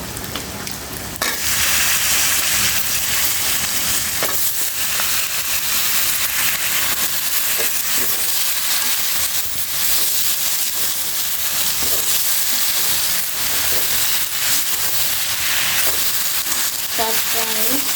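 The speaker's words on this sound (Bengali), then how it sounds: "শাকটা আমি উল্টিয়ে পাল্টিয়ে ভালোভাবে কষিয়ে নেব।" Leafy greens (shak) sizzle steadily in a hot pan as they are stirred and sautéed with salt, a loud continuous frying hiss with occasional scrapes and clinks of the spatula, close and without talk.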